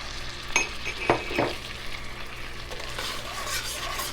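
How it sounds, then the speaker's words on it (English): Butter, orange juice, sugar and cardamom pods are mixed in a pan on the stove for cherries jubilee: a few close stirring scrapes and light clinks over a low, even sizzle, with no voices. "Once our butter's mostly melted, we're adding our fourth a cup of orange juice, as well as our sugar and our cardamom pods."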